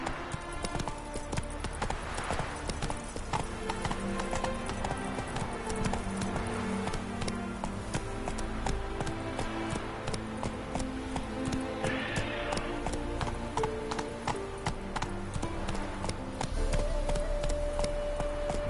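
Hoofbeats from the horse Roach galloping in the video game The Witcher 3: Wild Hunt patter quickly and evenly under steady game music.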